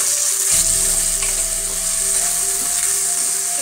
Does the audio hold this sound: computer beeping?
no